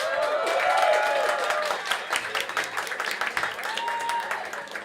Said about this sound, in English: So a big applause to Karla Ortiz